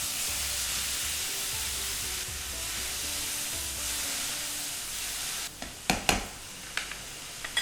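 Tomatoes, onion and dried red chillies fry in a pan with a steady, even sizzle, and a few sharp clinks and scrapes of stirring come near the end.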